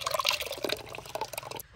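Yogurt poured into a bowl of ground ingredients while making raita for fried fish, a brief soft wet glugging and plopping close by with no talk.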